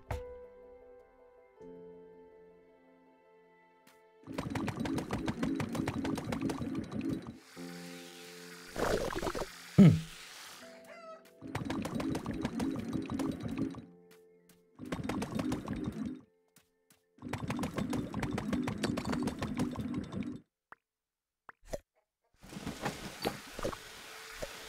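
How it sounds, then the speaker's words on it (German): A video game vacuum cleaner runs in repeated bursts of several seconds each, giving a buzzing, rattling motor drone that starts and stops with quiet gaps between. "Der Staubsauger ist ein bisschen komisch."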